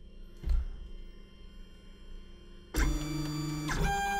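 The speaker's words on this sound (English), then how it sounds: "so we've got the printer starting up now. It's just going to retract any filament away" A Lulzbot Mini 3D printer starts up and retracts filament, giving a brief thump and then a steady whirring motor tone with pitch shifts as the mechanism moves, alone and moderately close.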